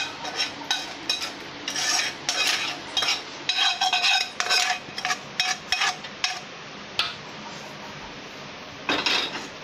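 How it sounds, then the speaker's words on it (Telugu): Metal spoon scraping and clinking inside a container while mango pickle is mixed, repeated bursts of stirring with short pauses, close and fairly loud with no talk. "ఇప్పుడు ఇందులో మనం మిక్స్ చేసుకోవాలి."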